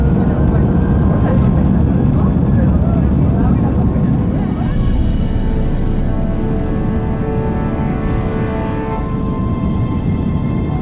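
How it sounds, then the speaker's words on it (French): Steady loud roar of an aircraft cabin during a Zero G parabolic flight, a broad constant engine drone with faint voices mixed into the noise. "l'avion se rend au large de la Bretagne"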